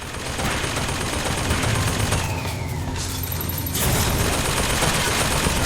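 Gunfire and turret shots in the video game BioShock Infinite, with dense rapid fusillade crackling over a steady loud rumble of combat, continuous and close with a slight surge toward the end.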